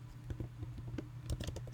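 Computer keyboard typing during a digital tools tutorial: a run of light, irregular keystrokes, close and moderately quiet, over a steady low electrical hum.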